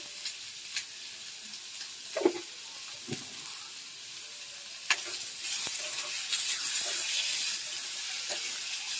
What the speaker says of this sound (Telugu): ఆనియన్ కూడా ఎక్కువ ఫ్రై అవసరం లేదు, కొంచెం మీడియంగా ఫ్రై అవ్వాలి.